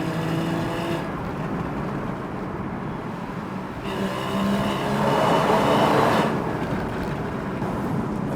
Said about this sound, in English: listening to the way this engine sounds,